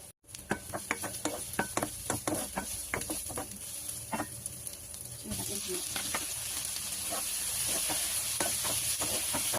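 Onion and ginger sautéing in hot oil in a pan, with a run of sharp stirring clatters and scrapes over a sizzle that swells into a steady, louder hiss near the end.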